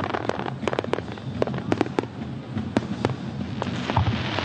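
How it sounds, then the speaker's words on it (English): Fireworks go off at the opening celebration of the Dubai Shopping Festival, a rapid scatter of sharp pops and crackling bangs over a dense background roar, fairly distant and continuous throughout. "The sight of dazzling fireworks"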